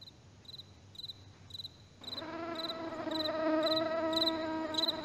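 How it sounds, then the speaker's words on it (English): A mosquito whines near the ear at night, a steady high buzz that rises and grows louder partway through, over a background of regularly pulsing cricket chirps. "Ah, another mosquito."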